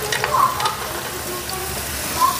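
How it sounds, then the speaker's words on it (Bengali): Sliced ridge gourd hits a small amount of hot oil in a pan and sizzles steadily, with a few light clinks from stirring, close and continuous. "ঝিঙেটা দিয়ে ওই অল্প তেলের মধ্যে আমি এটা নাড়াচাড়া করব।"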